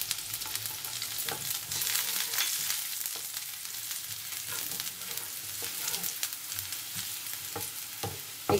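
Chopped garlic frying in a pan for spicy Bengali-style chicken lollipop, a steady dense sizzle with occasional stirring clicks and scrapes, close and continuous with no talking.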